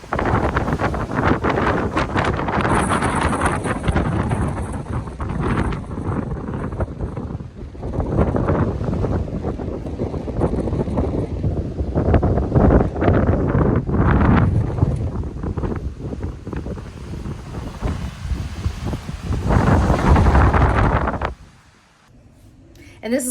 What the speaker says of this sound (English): You're not going to be able to hear me out there because it's really windy.